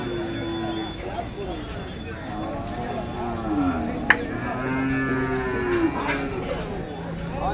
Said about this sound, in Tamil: நல்ல பெரிய மாடு.